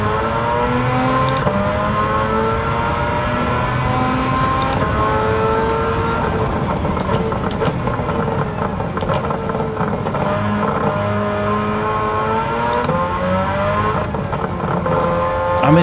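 A 1991 Suzuki Cappuccino fitted with a 13B rotary engine accelerates in Gran Turismo 7 at Autopolis Circuit, a steady loud engine drone rising and falling in pitch through the gears, with no talk over it.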